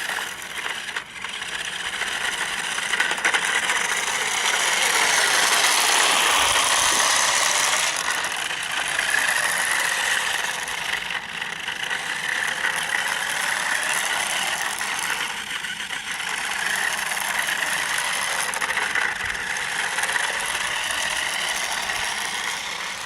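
A five-wheeled remote-control car with 360° rotation drives nearby, its small motor and gears whirring loudly and steadily, with rising and falling sweeps as it moves and turns, with no voices.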